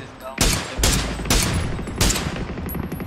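Gunfire in the PUBG battle game: four loud, sharp shots spaced roughly half a second apart, each with a short ringing tail, heard up close with no talking.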